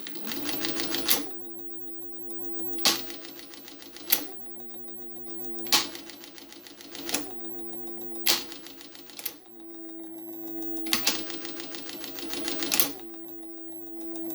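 A Mannan chain stitch embroidery machine runs in bursts of rapid mechanical stitching, each run ending in a sharp clack, with steady motor hum between runs, close and clear.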